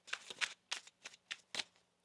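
A deck of tarot cards shuffled by hand in a series of about six quick, papery riffling bursts, close and crisp, with short pauses between them and no talking.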